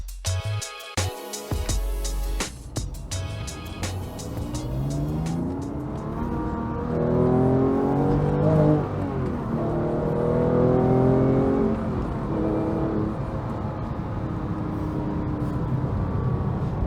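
Porsche 911 GT3 Clubsport cars, including a 996, driven hard: a loud flat-six engine revs up through the gears with rising and falling pitch sweeps, close to the microphone, after a brief sharp start and no talk.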